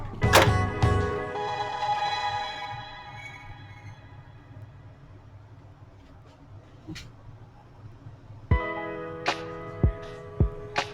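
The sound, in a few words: waste ink tank being removed from a printer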